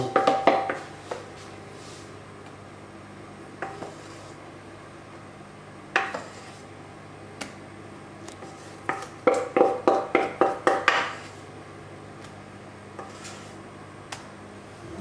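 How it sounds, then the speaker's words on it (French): Whisk knocking against a bowl while whipped cream is beaten with icing sugar: scattered clinks early, then a quick rhythmic run of about eight metallic taps near the end, close and clear with no talk. "On va commencer à battre et on va rajouter le sucre glace."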